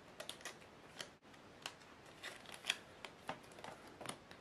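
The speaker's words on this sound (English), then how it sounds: "I'll sleeve up this Rory Atkins card" A footy trading card slid into a protective plastic sleeve, heard as a run of soft, close, scratchy rustles and light clicks, quiet and unhurried.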